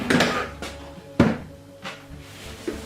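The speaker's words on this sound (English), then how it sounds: "take the door off, including the door slider that I attached last week" A kitchen cupboard door is handled while being taken off, with a few sharp wooden knocks and clacks spaced apart, close and fairly loud, with no talking.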